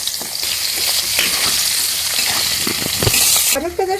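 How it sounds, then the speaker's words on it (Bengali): Carrots stir-fried in a wok give a loud close sizzle with repeated scraping and clattering as a utensil turns them, ending in a brief metallic knock. "গাজরটা জাস্ট কড়াই দিয়ে 1 থেকে 2 মিনিট নেড়ে নেবেন"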